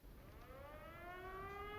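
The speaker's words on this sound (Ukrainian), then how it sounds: "Повітряна тривога." An air raid siren in Call of Duty Mobile wails steadily and rises slowly in pitch, with several layered harmonics, a continuous tone held at moderate loudness throughout.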